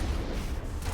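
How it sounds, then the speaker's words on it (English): Sniper rifle fire in Mass Effect Legendary Edition, heard as a dense, loud burst of gunfire that fills the whole second with no talk over it. "Out the gate, I get hit with a couple of snipers."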